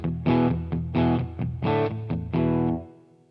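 Electric guitar through a Boss Katana solid-state amp driven by an EarthQuaker Special Cranker pedal, playing four loud, slightly gritty strummed chords, each separated by quick muted picks, the last one ringing out before fading.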